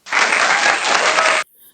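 A short burst of applause is played as a sound effect in a children's story about mice clapping. Bright, dense clapping starts sharply, stays loud for over a second, then cuts off abruptly.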